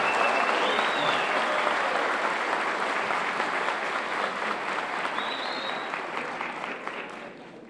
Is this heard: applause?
yes